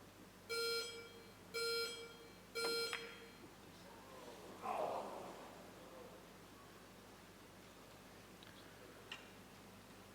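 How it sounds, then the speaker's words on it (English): Three evenly spaced electronic beeps from a shot clock during a professional pool final, the 2013 World Pool Masters, sounding fairly close against a quiet arena hush, followed by faint scattered noises. "The beeps of the clock came in."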